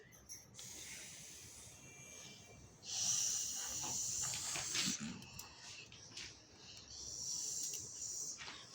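A young child imitates a snake with drawn-out breathy hisses, three long bursts with short pauses between them, fairly close and clear over a quiet room.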